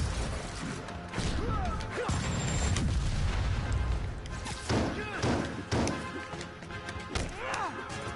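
In the Spider-Man video game, rocket launcher explosions land as several heavy booms and thuds mixed with crashes and whooshes, loud and irregular, with a voice talking between them.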